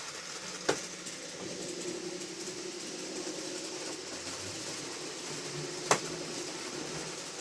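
Model trains running on a layout: a quiet, steady mechanical rumble and whir from several trains in motion, with two sharp clicks standing out against the faint continuous hum.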